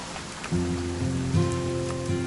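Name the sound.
rain falling, from the video game What Remains of Edith Finch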